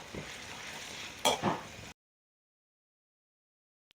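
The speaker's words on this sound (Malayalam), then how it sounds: "ഇനി തക്കാളിയും കൂടെ ഇട്ടിട്ടൊന്ന് കുക്ക് ചെയ്തെടുക്കുക." Curry leaves and tomatoes sizzle and crackle in a hot pan, a steady close frying hiss with a brief louder stirring burst partway through, then the sound cuts off abruptly into silence.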